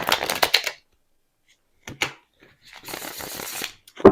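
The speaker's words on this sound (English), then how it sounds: "Can I get a clean shuffle" Tarot cards are shuffled by hand in short bursts of crisp riffling and flicking, with a quick snap of cards and a longer shuffle near the end, separated by silence.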